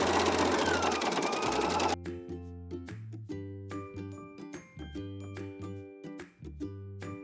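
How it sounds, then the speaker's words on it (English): A sewing machine zigzag-stitches elastic onto a thong waistband: a dense whirring burst at first, then stop-start runs of stitching with pauses between, fairly close and steady in level. "we're gonna go ahead and zigzag that down"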